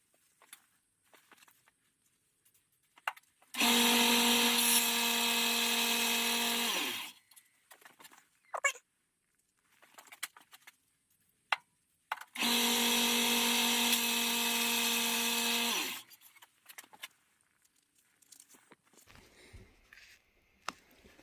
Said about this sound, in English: I just threw it in the belt sander, and look at how shiny it looks